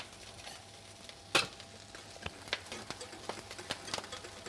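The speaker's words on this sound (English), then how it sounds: "Whisk it up a bit." Salted stock is whisked in a pot. Soft, quick scraping and clinking strokes from the whisk are close but faint, with one sharper clink near the start and a quiet sizzle in the background. No one speaks.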